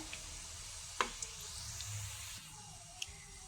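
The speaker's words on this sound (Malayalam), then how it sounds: "ഇത് ഒരു സൈഡ് ഫ്രൈ ആകുമ്പോൾ ഇതെല്ലാം ഒന്ന് മറിച്ചിട്ട് കൊടുക്കണം." Ripe jackfruit pieces fry in hot oil in a pan, a steady faint sizzle with a few sharp pops and clicks of pieces being turned, heard close with no talking.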